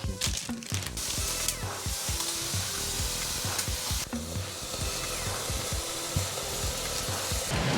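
Cheddar double cheeseburger patties frying on a hot cooking surface, a steady dense sizzle with crackles and scraping stirs throughout, loud and close with no speech.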